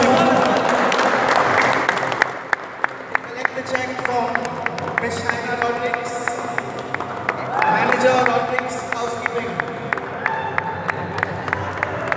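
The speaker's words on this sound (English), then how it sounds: "A big round of applause" Crowd applause at a cricket tournament prize ceremony, steady clapping from a gathered audience with sharp individual claps standing out, a loudspeaker voice heard over it.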